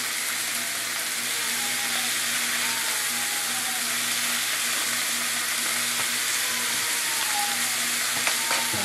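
Ground meat for chili fries in a pan with a loud, continuous sizzle, while a spatula breaks it up with occasional scrapes and taps, and a child cries faintly in the background.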